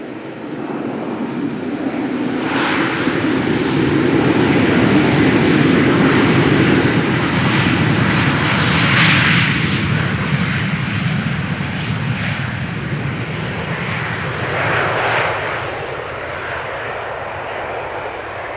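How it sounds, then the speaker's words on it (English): Two KLM jets, an Embraer 190 and a Boeing 737, roar loudly through a rolling takeoff at Amsterdam Schiphol, a steady powerful jet-engine thunder that swells and holds throughout with no voices. "KLM Duo, Embraer 190 in the foreground, 737 behind it. Both seem to be coming this way for a rolling start"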